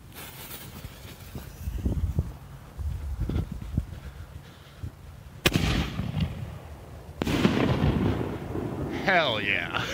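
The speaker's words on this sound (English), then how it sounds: "Magnus Dictator Brocade to Purple with Green Strobe" A Magnus Dictator brocade-to-purple with green strobe firework launches in a New Year's backyard show, low thumps and crackle building to two sharp loud bursts, followed by dense crackling and whistling fizz; voices react faintly in the background.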